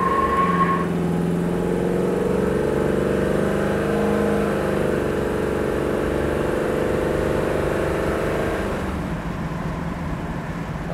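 A 1968 Chevrolet Camaro SS with a 454 engine pulls away under acceleration, a steady droning engine note rising gradually in pitch before easing off near the end, heard from inside with no talk.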